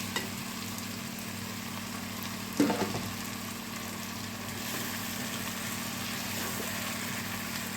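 Meat is added to a hot pan of sautéed, salted and peppered ingredients, with a brief crackling burst partway through over a steady, close, continuous sizzle.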